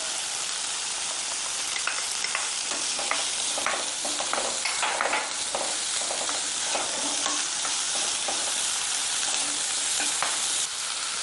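Chopped onion is stirred into a sizzling mixture in a frying pan, giving a continuous close frying hiss with soft scraping strokes and no talking.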